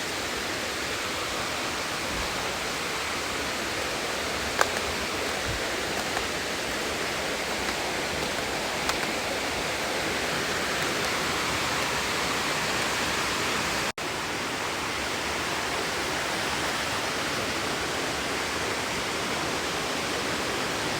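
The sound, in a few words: flowing water, stream in forest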